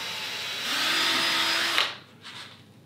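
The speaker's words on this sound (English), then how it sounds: "put the drill into that same hole you just did to make sure that you're lined up." A power drill boring into wood whirs steadily for about a second, then winds down and stops, leaving a faint rattle.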